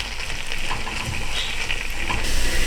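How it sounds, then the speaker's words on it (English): Onions sauté in a pan over a medium flame for a chicken biryani, giving a steady, close sizzle and crackle that runs throughout with no talking. "Saute them all under the medium flame to get little brown to the onion"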